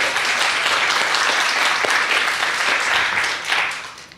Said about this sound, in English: let's give another round of applause for Shaquan.